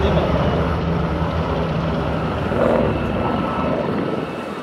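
NH90 and Gazelle military assault helicopters hover during an air-assault display at an air show, giving a loud, steady rotor and turbine roar that swells briefly midway, with no voices.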